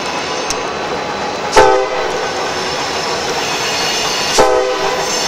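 A Norfolk Southern freight train rolls past loud and close with a steady rumble and clatter, its horn blaring in two brief blasts.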